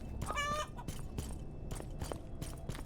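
Chickens cluck in a video game chicken house, a quick burst of clucking near the start, then scattered softer clucks over a steady low background.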